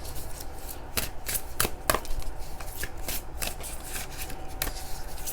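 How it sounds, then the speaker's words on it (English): A necklace worn close to the body gives off light, irregular clicks, scattered sharp ticks over a soft, steady background with no talking. "If you guys hear like a clicking sound, it's my necklace"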